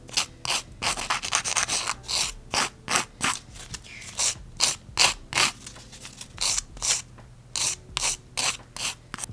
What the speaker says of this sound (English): Gonna do a little filing.